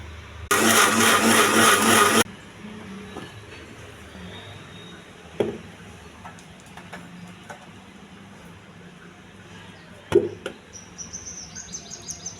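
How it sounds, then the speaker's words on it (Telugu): A kitchen mixer grinder whirs loud and steady for about two seconds as washed grapes are blended into juice, then cuts off, leaving only faint knocks and clatter. "మిక్సీ చేస్తాను ఇప్పుడు."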